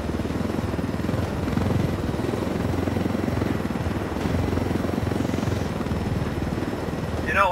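A helicopter flies in Ghost Recon Wildlands, its rotor giving a steady, loud, close chopping thrum that holds throughout without a break.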